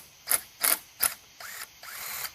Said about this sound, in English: Now I will take things apart with impact